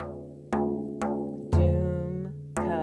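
Frame drum (tar) playing a rhythm in which the final tek stroke becomes a pak: four sharp, ringing hand strokes spaced about half a second apart, each decaying with a resonant boom, all played solo with no talking.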